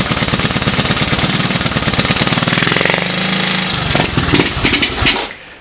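A 1986 Honda TRX125 ATV engine runs with the choke on, a loud rapid single-cylinder putter close by that falters and sputters toward the end as it stalls.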